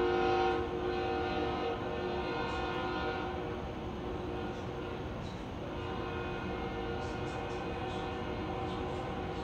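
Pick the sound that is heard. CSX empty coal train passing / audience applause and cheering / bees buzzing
CSX empty coal train passing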